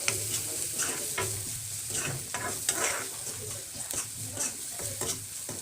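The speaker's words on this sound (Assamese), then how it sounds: "পিয়াজখিনি প্ৰায় ভাজি হৈ গৈছে" Onions fry with chili powder, salt and turmeric in a pan, sizzling steadily while a spoon stirs in repeated scraping strokes, close and continuous with no voices.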